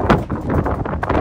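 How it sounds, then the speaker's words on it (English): Wind buffets the microphone in a loud, continuous low rumble with gusty surges throughout. "But it's a bit windy."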